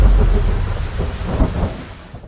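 Heavy rain falls while a deep roll of thunder rumbles loudly at the start and slowly fades into the steady hiss of the downpour, with no voices.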